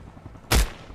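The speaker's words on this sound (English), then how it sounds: "So he's just popping those shots really quick." A single loud, close rifle shot cracks out in the video game Arma Reforger, a short, sharp burst standing alone against a quiet background.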